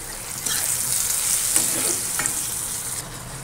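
Pointed gourd and paneer sizzle in oil with salt, turmeric and chilli powder, a close, steady frying hiss with a few soft scrapes of stirring, easing slightly in the final second.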